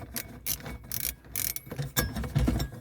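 Ratchet clicking in short bursts as a screw is worked loose from a metal plate behind the glove box of a Nissan Micra K11, close and moderately loud with brief pauses between strokes.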